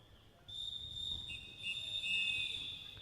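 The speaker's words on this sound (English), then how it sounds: "the whistle sounds to signal the end of the first period" Referee's whistle at a youth tchoukball championship signalling the end of the first period, a long, bright, fairly faint blast that wavers in pitch and rings on for about two and a half seconds over quiet background.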